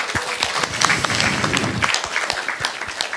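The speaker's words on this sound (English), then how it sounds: "if you can all join me, clap for all the men in the room today" A room full of people applauding at an International Women's Day corporate event, honouring the men present; brisk, continuous clapping close by with a few voices, lasting about three seconds.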